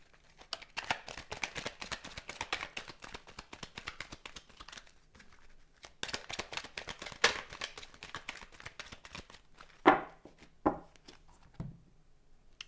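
A deck of cards is shuffled and cut by hand, giving rapid crisp riffling flutters in two bursts, then a few sharper slaps and taps as the deck is split, close and fairly quiet.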